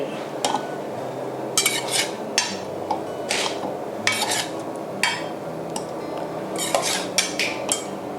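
Boiled curry paste is scooped with a spoon into a blender jar: repeated metallic clinks and scrapes in an irregular rhythm, close and fairly loud, with no talking.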